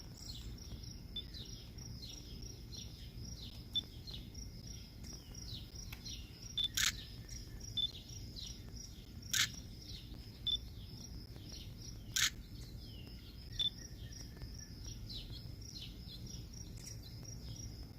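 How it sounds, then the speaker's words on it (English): Quick high-pitched hummingbird chirps repeat in a steady series over a faint outdoor background, punctuated by a few sharp clicks. "The hummingbird was chirping there."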